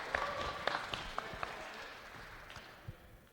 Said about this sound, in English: but round of applause for Max.